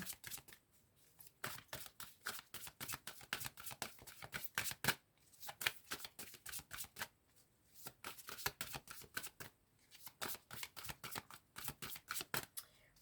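Oracle cards being shuffled in repeated quick riffling bursts, a steady run of crisp papery flutters with short pauses between rounds, close and fairly quiet with no talking.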